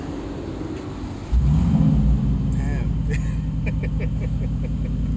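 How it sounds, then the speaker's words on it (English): A deep V8 engine rumble from a 2023 Mercedes G-Class G550 swells sharply as it revs, then settles into a steady, throaty idle, with a man briefly exclaiming over it. "That's a V8 engine right there."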